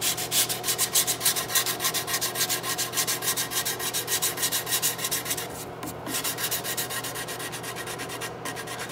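Steady rhythmic back-and-forth rasping of sandpaper on wood, close up, with quick even strokes that slow slightly toward the end.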